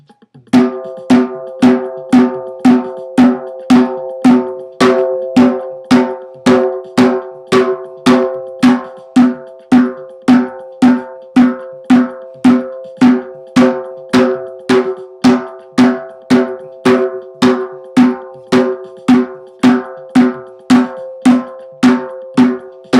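A hand drum played with the Go Do stroke of a hand-drumming method, a steady even pulse of ringing, pitched hits repeating for over twenty seconds, close and loud with no talk.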